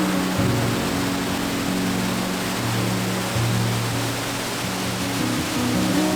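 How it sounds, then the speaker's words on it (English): Waterfall at Chutes Provincial Park pours in a steady, loud, broadband roar that fills the whole stretch without pause or voices. "the waterfall."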